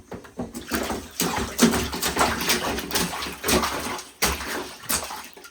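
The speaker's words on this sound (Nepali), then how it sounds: "हेर न पानी छिट्टायो" A six-month-old baby splashing water in a bath, with repeated close, lively sloshes and slaps in irregular bursts throughout, no talking over it.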